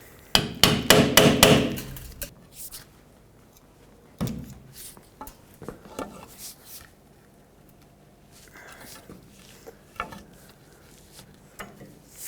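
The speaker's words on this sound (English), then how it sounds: "Grab a pry bar, just tap the seal out of here." A pry bar taps a wheel bearing seal out of the rear hub of a 2008-2010 Ford F-250, a quick burst of sharp metallic knocks up close, followed by a few scattered single taps and clinks.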